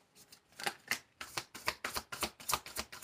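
Tarot cards being shuffled during a reading: a run of crisp, papery riffling bursts repeating in a steady rhythm, close and fairly quiet, with no talking.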